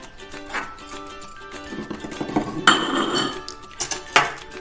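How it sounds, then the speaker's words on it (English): Spoon stirring milk and yeast in a bowl for brioche burger bun dough, bright clinking and scraping against the bowl in quick irregular strokes, close and fairly loud, with no talking. "So our milk and our yeast in. Give that a good stir."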